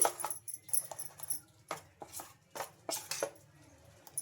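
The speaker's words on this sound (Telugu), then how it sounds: "ఇంకా ఈ సాల్ట్ కూడా వేసుకొని బాగా కలిపేసుకుందాం" A spoon stirs salt into paper dosa batter in a bowl, giving irregular close clinks and scrapes against the vessel between brief pauses.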